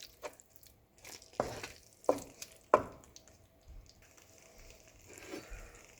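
A spoon or spatula stirring red sauce chicken pasta in a pan, with a few distinct scraping strokes and soft wet clacks spaced about a second apart, fairly close and otherwise quiet.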